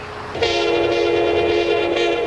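An 8,000-ton freight train passes close by at a highway rail grade crossing in the USA, its horn blasting one long, loud, sustained tone over the heavy rumble of the moving train.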